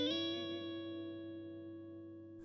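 An electric guitar chord rings out through the reverb of a Victory V140 Super Duchess amp with the tone turned down for a dark sound, decaying smoothly and sustaining alone for over two seconds before a small noise at the end.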